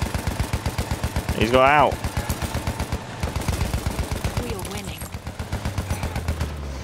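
Rapid automatic gunfire in the Battlefield 1 video game, steady rattling bursts running nearly throughout from an unsteady weapon, with a voice talking over it and a brief whooshing effect.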